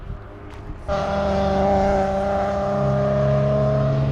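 A sports car engine roars up and holds a loud, steady exhaust drone with rising pitch, close and continuous after a short lead-in, at a trackday at Dijon-Prenois circuit.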